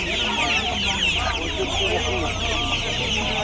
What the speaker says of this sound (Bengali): এখানে অস্ট্রেলিয়া মুরগির বাচ্চা দেখছেন